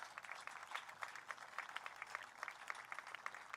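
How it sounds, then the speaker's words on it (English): Steady applause for veterans' families at a veterans celebration on Kauaʻi, many hands clapping in a dense, even patter heard from a little distance, with no voices over it. "please, a round of applause for the families,"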